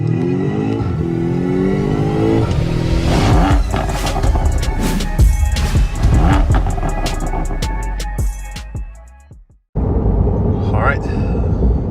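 A 2023 Chevrolet C8 Corvette driving, its engine droning and rising through several revving pulls, close and loud, then cutting out abruptly before resuming; no talk over it.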